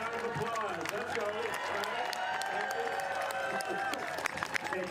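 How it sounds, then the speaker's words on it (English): A crowd at an outdoor anti-Trump political rally claps and cheers, with clapping and shouts mixed beneath a speaker's amplified voice and some music-like tones throughout. "Round of applause for all associated groups and yourselves."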